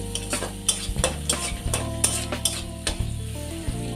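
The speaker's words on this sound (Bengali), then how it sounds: "এখন হলুদ আর জিরেটাকে এর মধ্যে খুব ভালো করে মিশিয়ে নিয়ে ভেজে নিচ্ছি" Turmeric and cumin powder fry in oil in a pan while a spatula scrapes in quick, regular strokes, about ten crisp scrapes over a steady sizzle and a low stove hum, close up with no talking.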